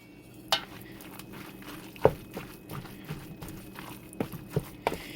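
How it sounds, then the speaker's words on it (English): A spoon stirs a leftover casserole of dark turkey, beans, peas, corn, macaroni and Alfredo sauce in a pot, giving several sharp, separate scrapes and clinks over a quiet background. "let me go ahead and give it a quick stir"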